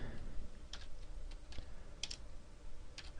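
Quiet, sparse keystrokes on a computer keyboard, a handful of soft clicks spaced irregularly over faint background hiss.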